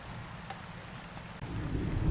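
Rain falling during a thunderstorm, a soft continuous patter that swells louder in the second half as a low rumble of thunder rolls underneath.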